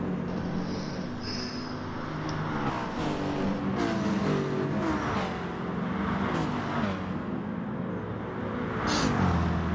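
Racing cars in a sim race, including a Mercedes-Benz, McLaren 650S and Honda NSX, produce a steady loud engine drone with shifting revs and a few brief high whines, with no voices over it.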